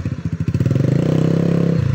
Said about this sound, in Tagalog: Winasingan mo yung motor mo.